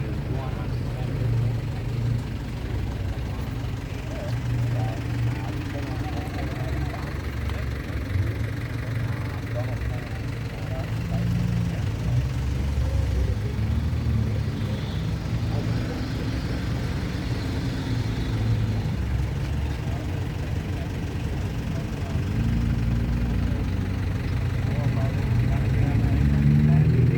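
A 1985 Nissan Bluebird with a CA28 engine and five-speed idles steadily at a car meet, a low continuous rumble that rises slightly toward the end, with voices and outdoor background around it.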